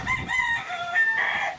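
Backyard chickens cluck while a rooster crows nearby, the long, loud crow carrying over layered clucking from the flock with no voices present.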